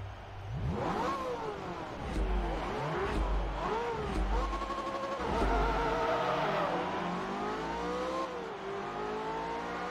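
A Ferrari engine in a Forza Motorsport 3 drag race revs hard, climbing through several gear changes with rising and dropping pitch, loud and sustained throughout.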